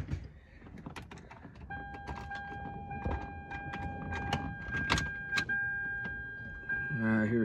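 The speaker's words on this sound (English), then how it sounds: "I hear fuel priming, so that's good." A fuel pump primes in a Toyota MR2 fitted with a swapped K20 engine, a thin steady electric whine under clicks, clunks and shuffling in the car, with a voice speaking nearby.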